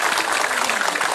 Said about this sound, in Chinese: 我们掌声鼓励一下王凯医生，谢谢大家。